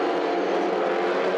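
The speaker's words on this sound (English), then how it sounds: "560 horsepower in fact from those Coyote V8 engines, and they sound magnificent" S5000 race cars powered by 560-horsepower Coyote V8 engines racing at The Bend Motorsport Park on cold Hoosier tyres, a loud, dense, sustained engine roar in one brief burst with no talking.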